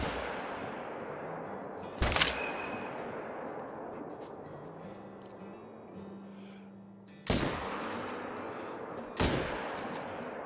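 Three sharp, loud rifle shots crack out one at a time in a deer-hunting video game aimed at a whitetail, each followed by a fading echo. A low ambient hum fills the gaps between them.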